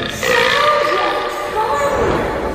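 A boy lets out a long, loud, close burp in a comedy show, one drawn-out gurgling belch lasting a couple of seconds.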